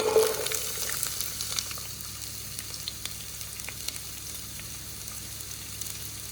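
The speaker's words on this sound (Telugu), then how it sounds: "ఉల్లిపాయలు బాగా వేగినాయి కదండి" Onions frying in a pan as the base for a cauliflower and capsicum curry, a quiet, steady sizzle with faint crackles and a few soft stirring touches, no voices.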